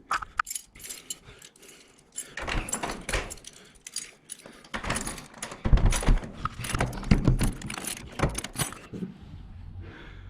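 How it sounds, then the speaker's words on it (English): Keys jangle and scrape as a stiff front door of a flat is forced open, with irregular rattles, knocks and thumps building in the middle and easing off toward the end, close by and without talk. "I managed to fight the door open"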